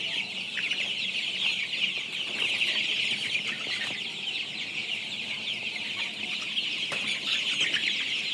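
Many 20-day-old Tiger breed meat chickens cluck and chirp together in a steady, busy chorus, close by with constant overlapping calls.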